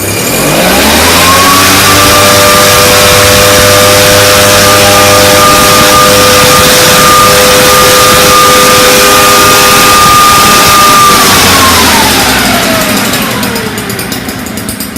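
A PORT 423 Enrich backpack fogger engine revs up from idle to a loud, steady high-pitched whine, holds it for about ten seconds, then winds back down near the end, very close.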